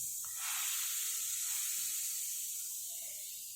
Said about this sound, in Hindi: तो ये जैसे आप इनो डालेंगे केमिकल रिएक्शन हो जाएगी